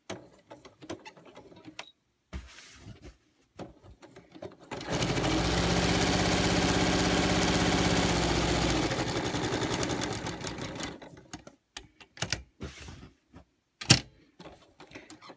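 A sewing machine stitches a fabric planner cover in one steady run of about six seconds, a close, even mechanical whir that starts and stops cleanly among quiet handling clicks and rustles.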